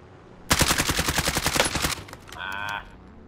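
A burst of FFAR rifle fire in Call of Duty, about fifteen rapid, evenly spaced loud shots lasting roughly a second and a half, followed by a short electronic tone.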